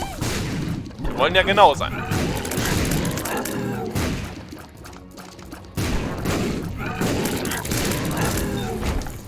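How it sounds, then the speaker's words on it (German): Rotating mini scythes explode in a video game, giving a run of loud booming blasts and crackling gunfire-like bursts in rapid succession, with someone talking over the action. "die kreisenden explodierenden Mini-Sensen des Todes"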